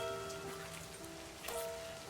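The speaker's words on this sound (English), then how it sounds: "No more standing in the rain." Rain falls steadily in the horror interactive novel game Livber: Smoke and Mirrors, a soft hiss of drops under sustained faint musical tones.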